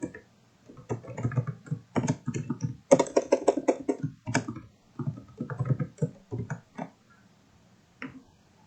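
Someone types a line of code on a computer keyboard: quick bursts of close, light key clicks with short pauses, ending in a few isolated taps in a quiet room.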